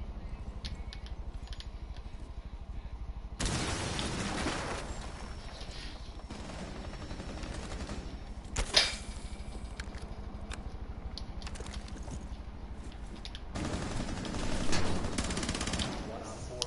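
P90 gunfire in a video game, heard as bursts of rapid shots in a couple of loud stretches with a sharp spike between, over steady game background noise.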